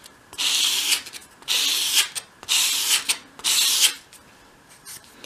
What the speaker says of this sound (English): So hold it against your sandpaper at a 45 degree angle, and as you sweep it towards you,